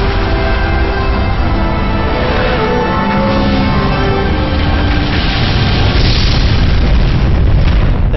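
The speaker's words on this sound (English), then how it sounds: "That's a nice explosion right there." Rocket explosion in the video game Mass Effect, a loud continuous booming roar that fills the whole stretch with dense rumbling blast noise.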